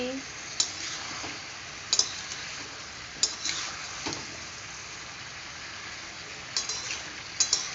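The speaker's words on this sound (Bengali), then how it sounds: "এই দেখো আমি এখন খুব ভালো করে নাড়াচ্ছি" Salted papaya curry is stirred in a pan over a soft, continuous sizzle, with a handful of sharp utensil clicks against the pan spaced a few seconds apart, heard close by.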